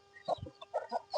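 Native chickens and chicks cluck in short, irregular bursts while pecking at a feed of crushed ragi and maize, the calls close and moderately loud with brief pauses between them.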